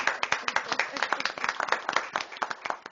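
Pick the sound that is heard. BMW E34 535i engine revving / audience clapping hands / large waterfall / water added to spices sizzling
audience clapping hands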